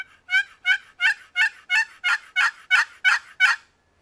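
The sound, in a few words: box call imitating hen turkey yelp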